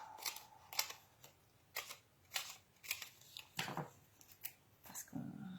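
Scissors snip small pieces of paper for a butterfly bouquet craft, sharp separate cuts in an irregular rhythm, close up, with a low rustle at the end.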